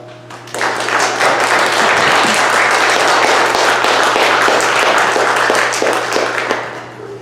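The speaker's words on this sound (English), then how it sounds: "a welcoming round of applause" A congregation at a Flower Communion Sunday service gives a sustained round of applause, a dense wash of many hands clapping that swells quickly, holds steady, then tapers off, with a low electrical hum underneath.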